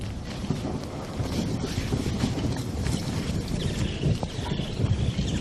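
A thunderstorm on the African plains fills the scene with dense, continuous rumbling and wind-blown roar, steady and broad without distinct breaks.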